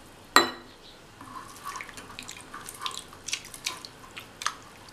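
Water is poured into a tomato mixture for kara kuzhambu, starting with one sharp knock, then soft, faint splashing and trickling that continues unevenly, with no talking.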